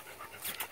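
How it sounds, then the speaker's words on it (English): A little terrier mix dog pants softly and quickly at close range, a short run of breathy huffs that grow slightly louder toward the end, with no voices over it. "She's some sort of little terrier mix."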